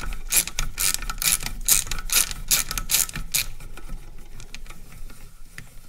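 A thread tap cuts screw threads into the cast top cover of a Minneapolis-Moline 445 prototype tractor, giving a close, rapid, ratcheting metallic clatter that eases off near the end, with no speech.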